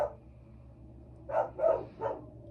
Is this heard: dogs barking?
yes